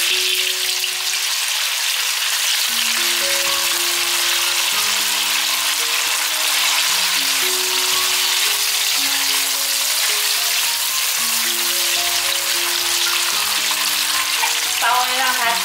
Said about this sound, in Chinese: 锅内放入一些油，油已经热了，把豆干放进来